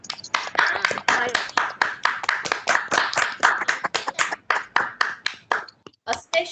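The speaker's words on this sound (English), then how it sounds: "I want teachers and students to applaud the efforts being put in by the students" Teachers and students clap at a farewell celebration, a close, uneven run of distinct hand claps in quick succession that thins out toward the end.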